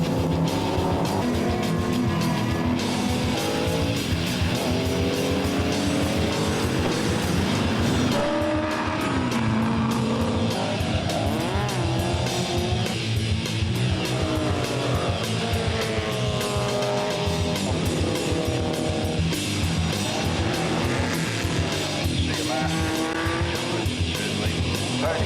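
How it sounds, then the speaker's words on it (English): A heavily modified 700 hp Ford race car screeches through a tarmac rally stage, its tyres squealing in long repeated wails over a continuous loud engine roar. "700 horsepower of heavily modified blue oval under the bonnet, and the tyres are bleeding rubber all over the track"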